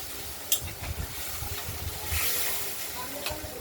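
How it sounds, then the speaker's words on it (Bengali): Hand-ground spice paste fries in a pan for a river fish curry, giving a close, continuous hissing sizzle over a low rumble, with a couple of sharper spits. "মশলাটা কষানো হচ্ছে"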